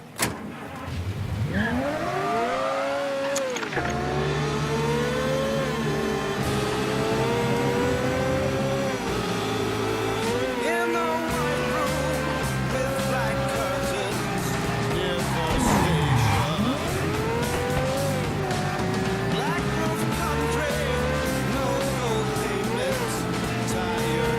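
A car being driven in the video game Mafia 3, its engine revving and shifting pitch continuously, with occasional tire squeals under steady background music.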